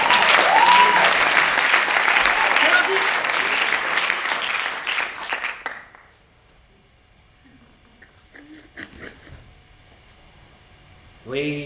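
An audience at an improv theatre festival in Paris claps loudly and steadily for about six seconds, then the applause cuts off into near silence with a few faint murmurs and a brief burst of sound at the end.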